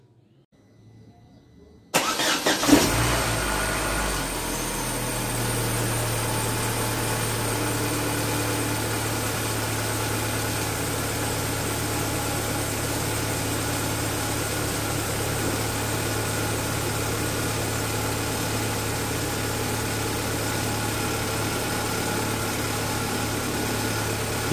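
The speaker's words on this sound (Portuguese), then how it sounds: "barulhinho do meu motor" After a brief silence a car engine cranks and catches, then settles into a steady, continuous idle with a low hum and faint vibration.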